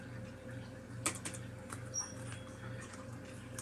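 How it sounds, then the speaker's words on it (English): Taps on a Bluetooth keyboard case for a second-generation Nexus 7 tablet, a few scattered soft clicks over a steady low hum, faint and close. "Let me type this in here."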